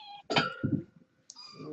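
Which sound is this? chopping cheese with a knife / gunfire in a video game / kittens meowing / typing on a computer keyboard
kittens meowing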